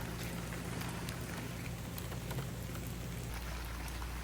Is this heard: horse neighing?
no